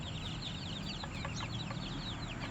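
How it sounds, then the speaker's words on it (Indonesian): Laying hens and free-range chickens in a poultry coop cluck and chatter faintly over a constant low hum, with no voices. "Kita pantau dulu perkembangan ayam kita di pagi hari ini."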